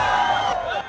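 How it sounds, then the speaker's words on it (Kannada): Crowd at a Siddi community performance cheering and whooping loudly, a dense wash of voices sustained throughout, with the applause not clearly separable. "ಬನ್ನಿ ಇನ್ನೊಂದ್ಸರಿ ಜೋರಾದ ಚಪ್ಪಾಳೆ ನಮ್ಮ ಸಿದ್ಧಿ ಜನಾಂಗದವರಿಗೆ"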